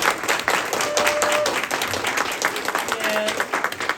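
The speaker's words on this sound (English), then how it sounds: "give them a round of applause if you think the disguises will work" An audience at a children's spy-themed showcase claps and cheers steadily for several seconds, a warm, dense applause with a few brief voices rising through it.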